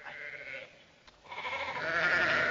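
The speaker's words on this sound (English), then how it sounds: "No, those are sheep." Sheep bleating in a 1952 film comedy set scene, a wavering animal call sustained over ambient noise, fairly close and steady, with a brief pause before it swells again louder.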